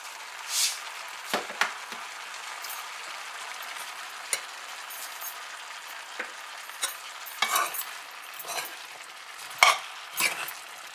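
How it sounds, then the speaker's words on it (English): Bhunjal pumpkin being stirred in a pot with curry paste, a soft continuous scrape and sizzle broken by scattered spoon knocks against the pot, close and fairly quiet with no voices. "So you're gonna give this a mix up"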